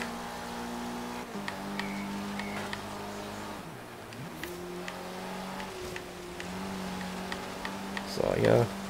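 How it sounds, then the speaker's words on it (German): Dart GT with an offroad conversion in Forza Horizon 3, its rally-like engine droning steadily with pitch dips at gear shifts and a few ticks, while a person talks over it. "Hat das so einen leichten Rallye-Sound, finde ich. So ein Rallye-Motor."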